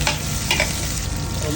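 Garlic sizzles in a pan for pork ribs with mung beans, a close, steady frying hiss broken by quick stirring scrapes.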